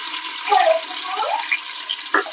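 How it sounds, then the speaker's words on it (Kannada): Onion dropped into hot oil and ghee already seasoned with cinnamon, cloves, pepper and whole spices, giving a steady close sizzle with a few brief bursts of crackle and no talk. "ಈಗ ಆನಿಯನ್ ಹಾಕೊಂತ ಇದೀನಿ."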